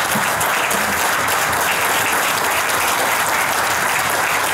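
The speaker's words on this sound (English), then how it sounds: "Let's give her a round of applause." A crowd applauds loudly and steadily at an outdoor veterans memorial rededication ceremony in Rockford, Illinois, dense clapping filling the whole stretch without pause.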